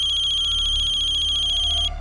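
A phone ringtone rings steadily in a rapid, evenly pulsing electronic pattern for about two seconds, loud and close, then cuts off abruptly. No one speaks over it.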